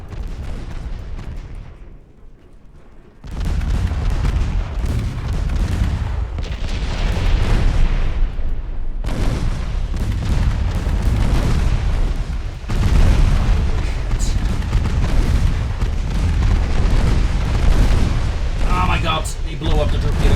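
Torpedo explosions in the naval warfare game Ultimate Admiral Dreadnoughts: a quiet lead-in gives way to loud, sustained rumbling booms and blasts, dense and continuous, with a voice speaking over them.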